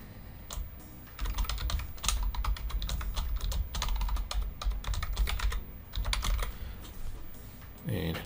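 Dense, rapid clicking of keys on a computer keyboard while naming a spreadsheet tab, close and steady for several seconds, with a faint voice near the end.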